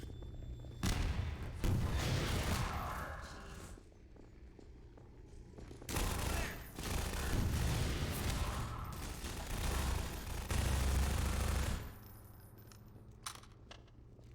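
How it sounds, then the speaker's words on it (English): Rocket launcher fire in Half-Life 2 Episode One sets off loud, booming blasts in two long rumbling bursts of several seconds each, close and powerful, separated by a quieter stretch of background hum. "Better switch to rocket launcher."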